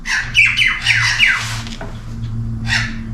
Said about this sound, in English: Even the birds are excited.